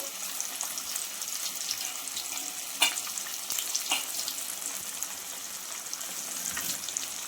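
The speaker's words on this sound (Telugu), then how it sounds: "డీప్ ఫ్రై అండి, అది చాలా ఫ్రై లాగా సగం ఆయిల్ వేసేసి చేస్తున్నాను." Fish pieces deep frying in half a pan of oil, Nellore style, give a steady bubbling sizzle throughout with a single sharp clink near the middle and no one speaking.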